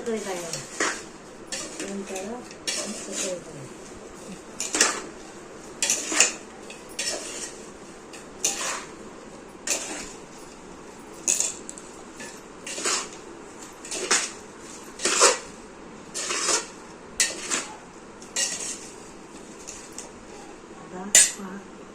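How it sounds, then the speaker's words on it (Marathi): Raw mango pickle mixture being stirred in a pot, a steady run of metal spoon scrapes and clanks against the vessel repeating every second or so, fairly close, with faint background voices. "आता व्यवस्थित मिक्स करून घेत आहे"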